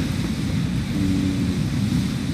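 Waterfall spray in the video game Resident Evil Village makes a loud, steady rushing roar of falling water that stays constant throughout.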